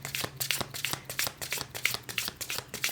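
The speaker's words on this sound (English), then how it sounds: "why don't we pull some cards?" Tarot cards are shuffled and pulled close by, producing a quick, steady run of crisp riffling flicks and slaps that repeat several times a second, with no talk over them.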